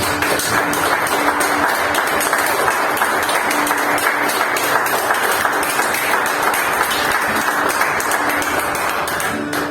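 Church congregation applauding during a service, a loud, continuous roar of many hands clapping together with a steady low hum beneath, unbroken and evenly sustained to the end.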